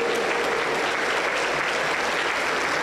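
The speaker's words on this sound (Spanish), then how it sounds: "Aplauso para el Señor Jesús." A dense wash of applause at a church service, steady and loud throughout, many hands clapping together with no pauses.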